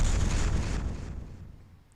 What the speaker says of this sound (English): your dance caused a mass explosion.